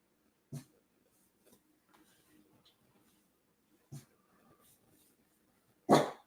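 Three sharp dog barks, spaced a couple of seconds apart, the last one loudest, with faint scattered noises in between.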